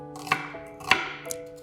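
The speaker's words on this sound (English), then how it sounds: "Very simple chopping." A knife chops onion on a cutting board for a chicken salad bowl, making four sharp, isolated knocks spaced roughly half a second apart, close and fairly quiet with no talk.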